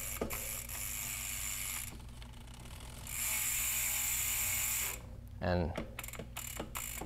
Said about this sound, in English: It is the German-engineered ZM2 hub featuring 12 pawls and 132 points of engagement. So here's what they're gonna engage and sound like.